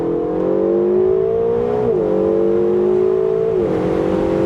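A rear-wheel-drive car accelerating in manual mode, its engine droning steadily as it climbs, dipping briefly at two gear changes before rising again, heard from inside the car.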